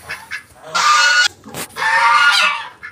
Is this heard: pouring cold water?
no